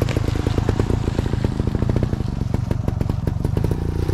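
A motorcycle engine blips lightly with a little throttle while riding off during a floater turn, a close, loud, rapid chugging beat that stays steady throughout with no talk.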